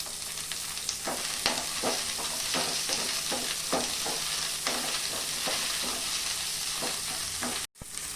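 Onions fry in a pan with a loud, continuous close sizzle while a spoon stirs them in repeated scraping strokes, and no voices are heard.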